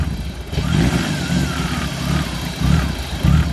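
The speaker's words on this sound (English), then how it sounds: "It's not firing on all six. It's dropped the cylinder." An old BMW six-cylinder engine runs rough with one cylinder dead, giving a lumpy, uneven idle whose loudness surges and dips irregularly at close range.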